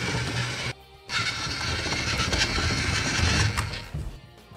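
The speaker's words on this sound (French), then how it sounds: "on peut aussi faire marcher le scooter sans la musique" A battery-powered Winx Club Bloom doll's toy scooter runs without its music, a close, buzzy motor whir with brief pauses as it stops and restarts.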